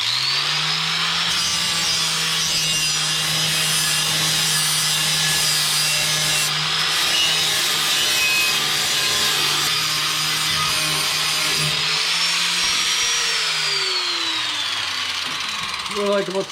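A grinder with a flat disc grinding steel off the trunk floor of a 1958 Plymouth: a loud, continuous abrasive roar with a steady motor whine that shifts pitch as pressure changes, close and unbroken throughout.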